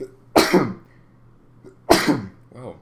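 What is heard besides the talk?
sneeze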